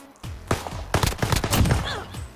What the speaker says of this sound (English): If you shoot her, which I can do quite easily